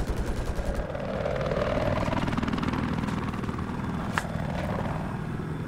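An attack helicopter in an online 8vs8 competitive shooter match, its rotor thumping steadily and fairly close, with bursts of gunfire and a sharp crack cutting through.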